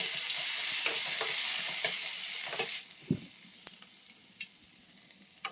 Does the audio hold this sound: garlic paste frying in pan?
yes